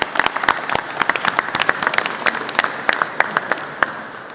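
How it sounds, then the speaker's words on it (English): An audience applauds at a Pennsylvania pension reform bill signing with Governor Wolf, steady crowd clapping with distinct individual claps standing out, moderately close, with a faint voice underneath. "Give yourselves a round of applause."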